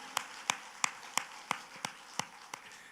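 A church congregation claps in steady unison rhythm during a sermon, about eight sharp, evenly spaced claps, fairly faint and distant.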